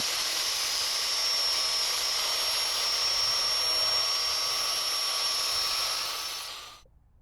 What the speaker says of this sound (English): I'm using an 1/8 inch router bit here, which is the same thickness as the decorative walnut strips I cut.